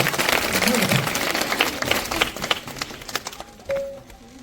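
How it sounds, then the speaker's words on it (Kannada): Schoolchildren clap loudly at a Republic Day program at a village primary school, a dense burst of applause that thins into scattered claps, with voices mixed in. "ಜೋರಾದ ಚಪ್ಪಾಳೆ"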